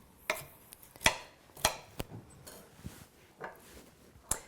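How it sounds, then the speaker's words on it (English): Sharp knife cuts chop through long spiralized carrot strands on a cutting board, about ten quick, irregular clicks and taps, close and fairly quiet, without speech. "it's a good idea to just give them one or two little cuts in case the spirals are really long"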